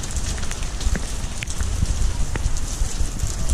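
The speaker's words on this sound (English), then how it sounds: "Still raining." Steady rain patters outdoors at a high Paris viewpoint, a dense close hiss with scattered individual drops ticking through it and no talking.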